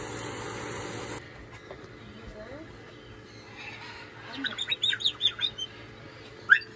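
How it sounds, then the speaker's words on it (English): Caged parrots give a run of short, sharp chirping calls close by, rising to a loud squawk near the end after a quieter start. "These are probably the special needs parrots."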